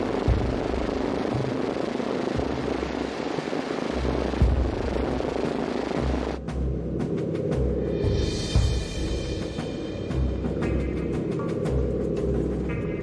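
An American bomber in flight, with the Fritz X replica and its model maker aboard in the nose: a steady, loud engine and propeller drone fills the whole clip, shifting in tone partway through, with no talk.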